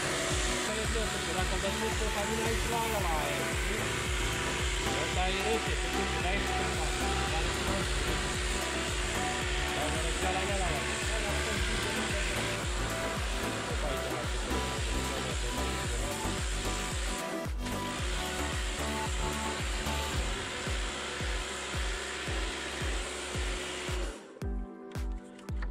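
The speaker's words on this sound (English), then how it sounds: "it's a household Kircher washer with limited power because we don't want to damage the radiator core cells" A household Kärcher pressure washer on limited power sprays the radiator fins of an Audi A4 B9, a steady loud hissing rush that runs almost without break before cutting off near the end.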